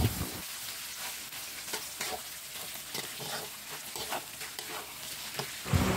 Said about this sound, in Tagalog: Igigisa hanggang maglabas na yung sariling mantika nito.